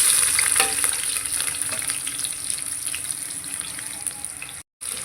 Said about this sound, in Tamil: இப்போ நம்ம வெங்காயம் சேர்த்துக்கலாம்.